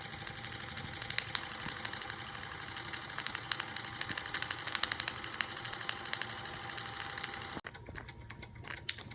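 A Wilesco D455 double-acting model steam engine chugs steadily at low RPM, a slow, even rhythm with fast mechanical patter and light knocking, cutting off abruptly near the end.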